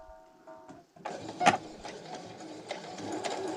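A sewing machine stitches through a thick folded section of a hooded towel, starting after a short quiet moment and running steadily up close with a sharp knock along the way.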